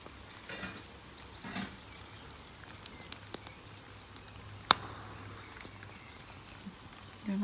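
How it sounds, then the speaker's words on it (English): A small twig campfire burns in heavy rain, giving scattered sharp pops and sputtering crackles over a steady, faint patter of rainfall. "the twigs are catching, even though the rain's getting quite heavy now, so you can hear it spluttering a little bit"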